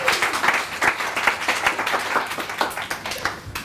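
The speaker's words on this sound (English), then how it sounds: "Give him a round of applause!" At a sales mastermind event, an audience breaks into a round of applause: individual claps are distinct and rhythmic, moderately loud and fairly close, fading slightly toward the end with no talking over it.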